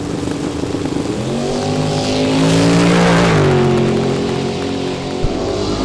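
Drag racing cars, including a G-Body Chevrolet Malibu, launch at Mo-Kan Dragway: a loud, close engine roar rises in pitch, swells, then drops off, with no talk.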